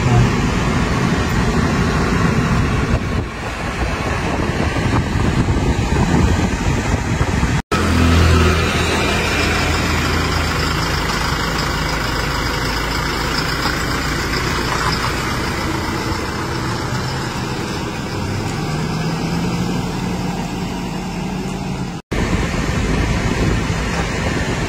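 A 2022 Toyota Fortuner 2.8 GR Sport with the 1GD diesel engine, heard from inside the cabin as a steady low engine drone and road rumble while the car sets off and keeps driving, with no talking.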